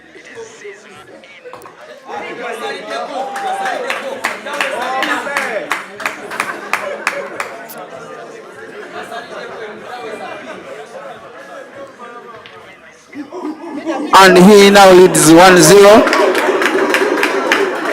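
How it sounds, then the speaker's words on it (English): Ugandan spectators at a pool money match break into clapping and cheering, with a loud burst of crowd noise near the end, under steady commentary. "The Ugandans cheer on."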